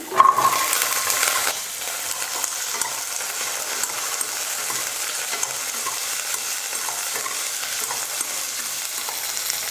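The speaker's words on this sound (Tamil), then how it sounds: "சின்ன வெங்காயம், பூண்டு, இஞ்சி எல்லாம் நல்லா வதங்கிடுச்சு" Shallots, garlic and ginger sauté in hot oil in a pan, a steady bright sizzle holding throughout, louder in the first moments then settling into an even, close hiss with faint stirring.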